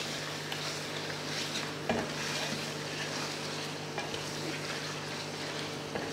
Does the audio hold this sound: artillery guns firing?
no